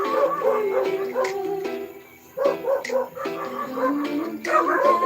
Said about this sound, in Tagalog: Yan na aso.